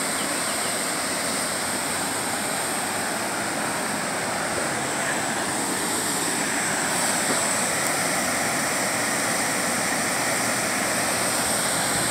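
Water rushes over a river dam in a continuous, broad roar that stays steady and fairly loud throughout, with no voices.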